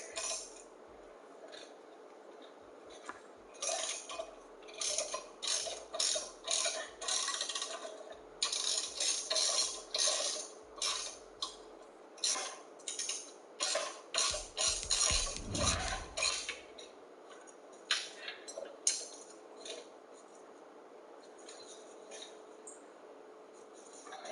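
A ratchet with a 15 mm socket loosens a nut on a lifted vehicle after penetrating oil has been applied. A long run of quick, close clicking comes in rhythmic bursts.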